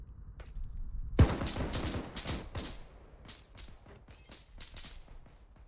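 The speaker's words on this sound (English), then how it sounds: "Just shots from the left" Video game gunfire during a military patrol: a loud burst of rapid shots followed by scattered, fading volleys of automatic fire echoing at varying distances.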